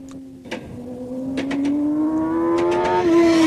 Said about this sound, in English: This rider is late on the gas and gets very hard sudden acceleration out of the turn.